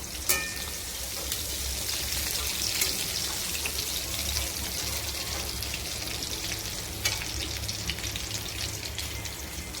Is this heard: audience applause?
no